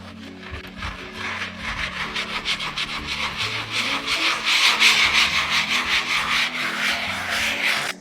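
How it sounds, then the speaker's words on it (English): Rhythmic scratchy rubbing of sandpaper across a gessoed 48x48-inch canvas, repeated strokes in a steady back-and-forth pattern, close and growing slightly louder. "it's time to sand."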